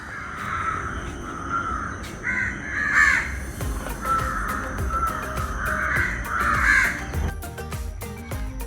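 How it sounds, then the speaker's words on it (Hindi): Crows caw repeatedly near a home stay by Kovalam Beach in the morning, harsh calls coming in several bursts over a soft background hum of smaller birds. "होम स्टे के बाहर आया तो रोज की तरह चिड़ियां चहक रही थी"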